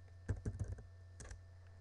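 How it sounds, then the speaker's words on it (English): Quick bursts of typing on a computer keyboard, a few close clicky keystrokes in two short clusters with a pause between, against a low steady hum. "I have to type it correctly, don't I?"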